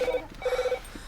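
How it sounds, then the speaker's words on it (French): A telephone rings in short, rapid electronic trills, two bursts in quick succession, sounding clear and fairly close in a quiet room. "Mais décrochez le téléphone!"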